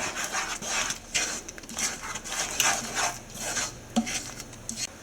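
A ladle works through thick sauce for pork ribs in a pot, giving repeated close-up scraping and rubbing strokes in an uneven rhythm, with the occasional soft knock against the side and no talking.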